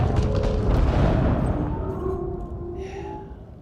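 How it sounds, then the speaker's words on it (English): A ship explodes in the space video game Elite Dangerous with a loud, deep boom that rolls and slowly fades away over a few seconds. "Let's get a nice explosion for the crowd."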